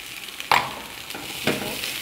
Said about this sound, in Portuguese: E agora eu tô deixando dourar, ficar fritinho.